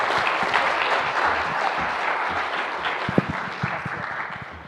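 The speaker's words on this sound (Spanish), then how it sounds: "ayúdenme a darles un fuerte aplauso para estas palabras de inauguración" Sustained applause from a seated conference audience at an event opening, a dense steady clatter of many hands lasting throughout, with a few sharper individual claps standing out near the end.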